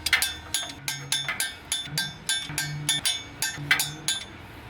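A torque wrench tightens bolts to 75 foot-pounds during a Ford F250 transmission swap, giving a rapid series of sharp metallic ratchet clicks in short bursts, close and fairly quiet.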